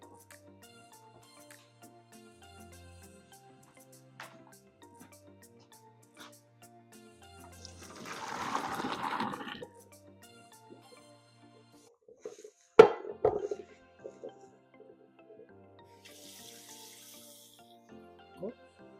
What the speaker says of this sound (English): I'm going to go ahead and drain the pasta.